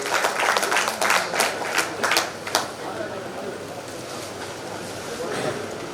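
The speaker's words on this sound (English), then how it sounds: "And round of applause to all the bank employees." Audience applause at a bank's annual general meeting in honour of the bank employees, sustained clapping from a large crowd with several sharper claps in the first half.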